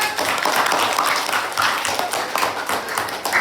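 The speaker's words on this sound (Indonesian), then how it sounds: "Boleh tepuk tangan." Steady clapping from a group of people in a class, dense and continuous throughout with no pauses, fairly loud and close.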